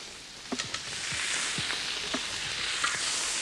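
Pieces of impala meat browning in a hot pan sizzle with a loud, steady hiss, broken by a few small pops and crackles, close up.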